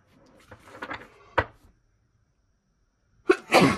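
A woman sneezes close by, a sharp loud burst near the end that follows a quieter stretch with a small exclamation and a brief gap of silence.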